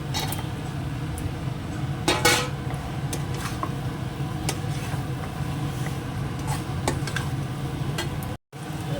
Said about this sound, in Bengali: তো আলুটা দিয়ে একটু কষিয়ে নেবো